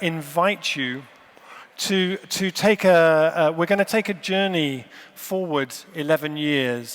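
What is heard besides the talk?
No everyday noises stand out.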